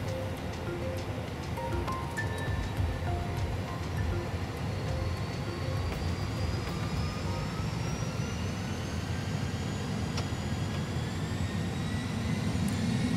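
A320 jet engines spooling up to takeoff thrust in a full flight simulator, a steady loud roar with rising whine tones held throughout, with no talk over it.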